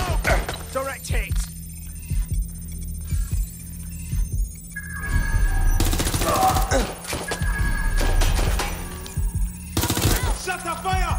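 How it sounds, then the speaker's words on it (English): Gunfire in the video game Watch Dogs: Legion, loud bursts of shots and impacts in a combat scene, mixed with game effects and a steady low hum. "They're shooting at us!"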